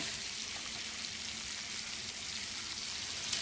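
Lamb sizzling in a hot frying pan, a steady even crackle and hiss, close and moderately quiet, with no other sounds.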